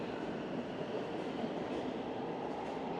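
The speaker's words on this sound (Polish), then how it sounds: "Jedzie pociąg, nie słychać." A Warsaw metro train passes, making a steady, fairly faint rumble and broad rushing roar with no distinct clicks, holding an even level throughout.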